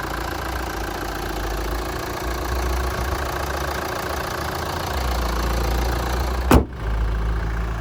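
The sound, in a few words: 2013 Kia Sportage Platinum diesel engine idling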